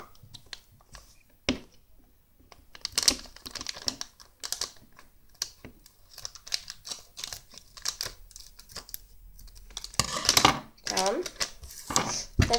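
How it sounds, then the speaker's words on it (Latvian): A Lego Simpsons minifigure packet is torn open and handled, with crisp crinkling, tearing and rustling bursts in irregular clusters, close and fairly loud, with quiet pauses between. "Bet tagad mēs taisīsim vaļā šitādu paciņu."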